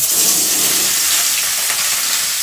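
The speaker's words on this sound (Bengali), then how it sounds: "এবার ফুলকপিগুলো ভাপিয়ে রেখেছিলাম সেগুলো এবার ভেজে নেব।" Steamed cauliflower florets frying in oil produce an even, loud crackling sizzle close at hand, unbroken throughout with no voices.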